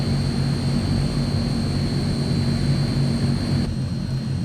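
A Transall C160 turboprop's engines drone steadily while the plane taxis in a flight simulator game, a loud constant rumble with a high whine held throughout and no speech.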